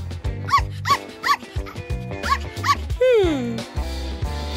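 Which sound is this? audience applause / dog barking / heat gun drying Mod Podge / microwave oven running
dog barking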